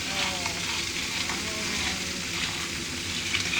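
Shellfish sautéing in a hot pan, a steady crackling sizzle with faint stirring scrapes, even and close throughout.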